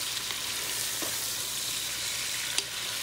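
Meat sizzles steadily as it fries in oil in a pot for a Tunisian potato stew, a constant close hiss with a couple of faint stirring clicks and no talk.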